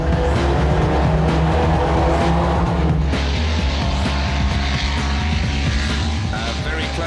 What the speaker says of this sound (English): Here he races against Cedric Gregson for a place in the semis.